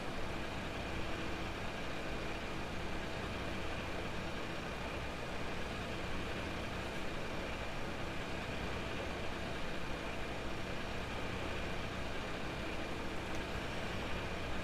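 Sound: tractor engine running, from video game Farming Simulator 17

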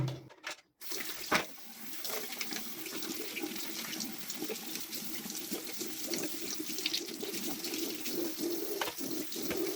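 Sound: toilet cistern filling with water

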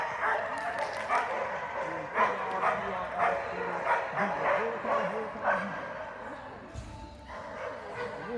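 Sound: dogs barking

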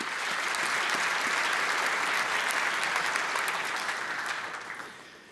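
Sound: applause for the nominees at the PZPN gala

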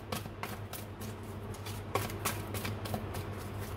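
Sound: tarot cards being shuffled and drawn

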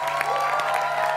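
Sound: audience applause for a child's poem

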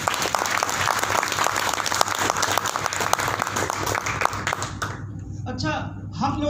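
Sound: audience applause

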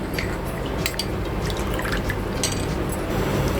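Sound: mixing cornflour and maida batter with water

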